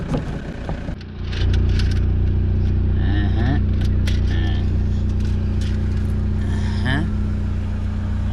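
A car drives along the tarmac road from Lodwar in Turkana, its engine a steady loud rumble with road noise throughout, and voices are heard faintly over it.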